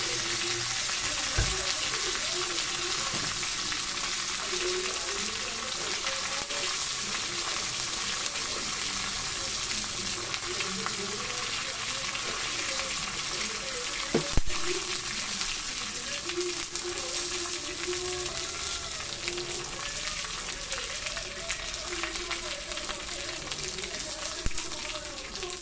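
Ghee and coconut oil heating in a pan give a steady, moderately loud sizzle throughout, with occasional faint clinks and a soft voice murmuring underneath.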